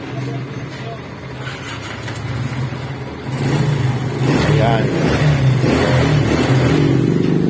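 Suzuki Smash motorcycle with a fault that makes it stall when pulling off in traffic, its engine idling close by and then rising into louder revving, with someone talking over it.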